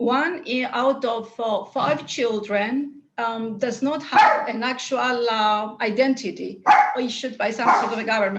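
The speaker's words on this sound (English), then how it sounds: "I'm sorry about my dog, but she hears some noise outside." A dog barks in short repeated bursts indoors, close by, mixed in with someone speaking continuously.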